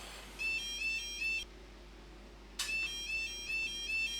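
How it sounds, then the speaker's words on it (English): A level crossing warning alarm sounds close and clear in regular repeating beeps, cutting out for about a second midway before resuming loudly. "Let's come out so we don't have to listen to the beeping of that level crossing."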